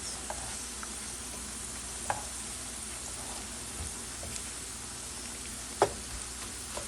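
Homemade French fries crisping in hot oil give a steady, close sizzle, broken by a few soft clicks and one sharper tap as the pieces are turned over.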